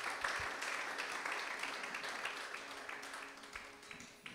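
Congregation at a church worship service applauding, a steady broad wash of clapping held at moderate level throughout, without speech.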